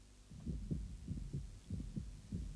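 A child's heartbeat heard through a doctor's stethoscope pressed to the chest: soft, low, muffled thumps in a steady paired rhythm, repeating four or five times over a faint hum.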